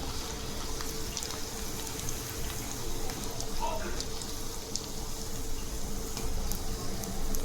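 Potato and semolina sev fries in oil over a low flame, a steady soft sizzle and bubbling hiss running continuously at moderate loudness.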